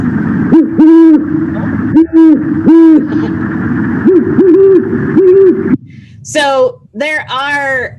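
Adult great horned owl giving deep, soft hoots in spaced groups, clear and fairly close, followed by a short burst of a person speaking.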